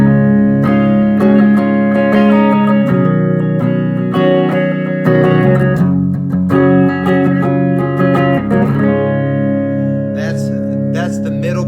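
A PRS Custom 22 electric guitar with Seymour Duncan or Dragon II pickups plays clean tones, ringing chords and picked notes sustaining through an amp with reverb, alone and close.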